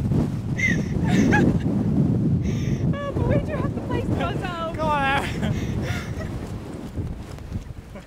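Strong gusting wind buffets the microphone beside a slate-stacked tower on the Cap Corse coast of Corsica, a loud steady roar throughout while several people talk over it.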